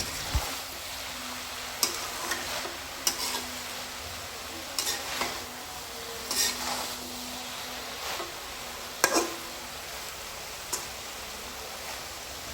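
Vegetables for a spicy potato, eggplant and bean curry with puti fish are stirred and fried in a pan, a faint steady sizzle with intermittent scrapes and clinks of a spatula, fairly quiet and unhurried.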